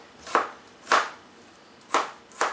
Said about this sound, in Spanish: también vamos a picar los jitomates, que como te digo, son dos. Y los vamos aquí a picar así en cuadritos